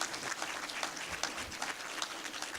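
An audience applauds at a public talk on American global leadership, a full, even wash of clapping that holds steady from start to finish.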